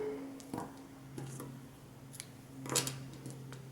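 Scissors cutting yarn after crochet work: a few soft, quick snips, close and quiet, in an otherwise still room.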